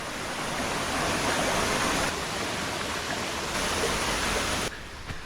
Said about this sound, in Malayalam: പാറയുടെ ഒക്കെ ഇടുക്കിയിൽ നിന്നാണ് വെള്ളം ഇങ്ങനെ ഒഴുകി പോരുന്നത് കേട്ടോ